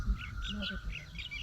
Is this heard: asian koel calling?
yes